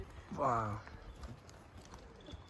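A horse walks a fir-forest mountain trail in snowy Gulmarg, Kashmir, in light rain. Its hooves clop faintly and irregularly after a short spoken word.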